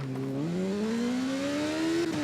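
A racing motorcycle in TT Isle of Man accelerates after a downshift to first gear, its engine note climbing steadily through the gear and then dropping briefly at a shift, heard alone with no talk.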